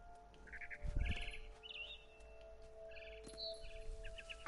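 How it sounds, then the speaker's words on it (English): Chirping barn swallow in the video game What Remains of Edith Finch: bright repeated chirps and short trills in irregular bursts, near and clear over a soft ambient background. "Then I heard chirping outside my window."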